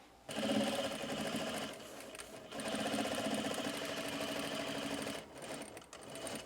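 Sewing machine top stitching corduroy pants, a close rapid mechanical whir running in two bursts separated by a short pause, with a brief stop and restart near the end.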